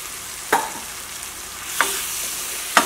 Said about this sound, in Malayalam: ഇനി ഞാനിതിലേക്ക് നമ്മുടെ വൻപയർ ചേർക്കാണ്